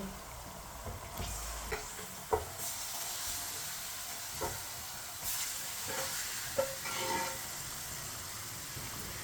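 Masala-marinated chicken dropped into a hot pan over lowered flame gives a steady quiet sizzle, broken by a few faint clinks and stirring scrapes.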